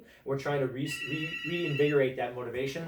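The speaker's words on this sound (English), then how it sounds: "Sorry about the phone, guys." A telephone rings behind someone speaking, a steady high electronic trill running under his voice, fainter than the talk but continuous throughout.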